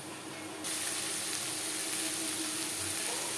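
Tomato pieces sizzle in a hot pan while being stirred for a vegetable dalia khichuri, a sudden steady hissing crackle that starts abruptly and continues evenly, close up.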